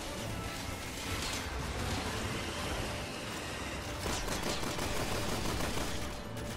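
Rapid gunfire from Resident Evil 6 rattles on in a dense, continuous burst like a machine gun, faint and distant-sounding, with bursts thickening near the end and no talk.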